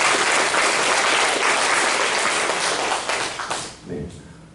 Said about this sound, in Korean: 축하의 박수를 보내시면 감사하겠습니다.